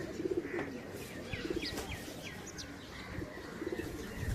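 Racing pigeons returning from a 17 km toss circle and come down to land, with soft cooing, scattered chirps and a few brief wing flaps over a quiet outdoor background.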